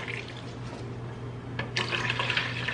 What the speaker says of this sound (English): So we are going to fill the water reservoir.